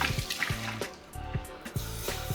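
Tap water runs into a pot in a home kitchen, a close, steady splashing pour with bubbly, gurgling bursts that rise and fall briefly, heard alone without talk.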